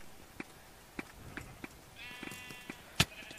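Sheep in Minecraft on a Mineplex server give a few short, soft bleats spaced through the clip, with game clicks and a louder synthetic chime near the end.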